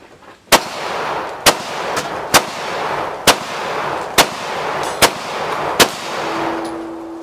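Gunshots at a nighttime tactical shooting competition, about eight sharp single reports fired at a steady, slightly uneven pace over a background hiss, fairly close and loud.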